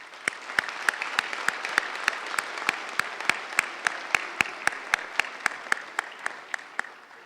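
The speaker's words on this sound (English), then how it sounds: "Let's give them a round of applause" At a 2013 Utica Academy for International Studies graduation ceremony, faint, evenly spaced sharp claps repeat in a brisk, regular rhythm for several seconds over a quiet, hollow room background.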